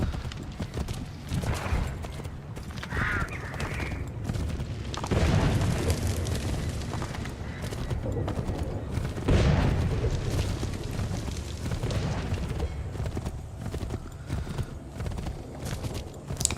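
Horse hooves in Assassin's Creed 3 clip-clop in a steady galloping rhythm throughout, with a whinny and booming rumbles in the background.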